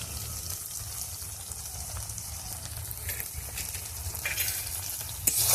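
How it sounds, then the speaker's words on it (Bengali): Gram flour (besan) frying in spiced oil in a pan for a vegetarian brinjal dish, giving a steady soft sizzle throughout with faint stirring scrapes and a brief sharper clatter near the end, no voices. "বেসনটাকে এটার সাথে ভালো করে একটু ভেজে নেব"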